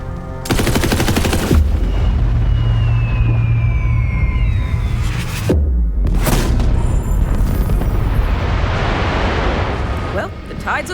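Rapid, loud automatic gunfire blasts at the moon in Borderlands 3, a sustained roaring barrage with a brief break midway before firing resumes, alongside game sound effects and talking voices.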